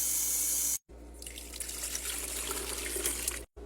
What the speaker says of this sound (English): We're going to fill it up with water and put it in self-cleaning mode.